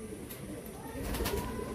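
Long-distance Madrasi pigeons coo softly at close range, a low murmuring call that swells slightly toward the end over faint background noise.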